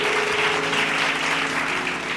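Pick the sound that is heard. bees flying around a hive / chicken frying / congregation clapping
congregation clapping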